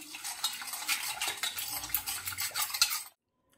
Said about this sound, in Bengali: তেল, চিনি আর দুধ ভালোভাবে মিশিয়ে নিলাম।